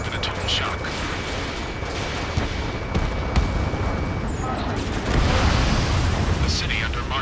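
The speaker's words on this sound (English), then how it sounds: "Gunfire and the roar of jets echoing through the streets." Dense rumbling roar of jets with scattered bursts of gunfire and mechanical clatter in city streets in Ace Combat 7: Skies Unknown, building louder toward the end, with voices speaking underneath.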